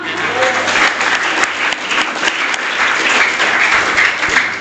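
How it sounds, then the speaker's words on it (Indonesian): A church congregation at an evening prayer service bursts into loud, sustained applause, a thick wash of many hands clapping together that stays strong throughout, with no speech on top. "Tepuk tangan untuk Tuhan."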